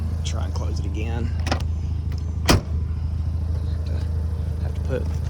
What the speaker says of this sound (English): Close the door right quick.